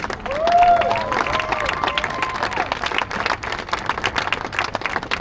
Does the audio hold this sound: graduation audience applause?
yes